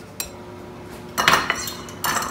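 A utensil mixes cake batter with baking soda and baking powder in a bowl, giving scattered metallic clinks and scrapes, faint at first and then louder and denser toward the end, with no voices.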